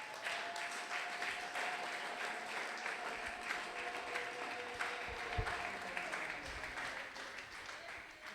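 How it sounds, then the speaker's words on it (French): A church congregation at a Sunday praise and thanksgiving service applauds steadily, a dense continuous wash of many hands clapping throughout, with a sustained tone and faint voices mixed underneath. "Nous acclamons encore pour la gloire de Jésus."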